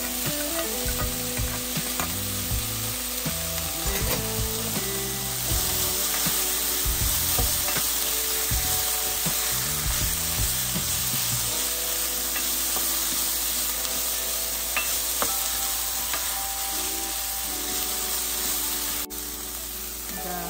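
Capsicum sizzling in a hot pan while it is stirred, with steady frying hiss and intermittent scraping and clinking of a spoon against the pan, close up, no talking.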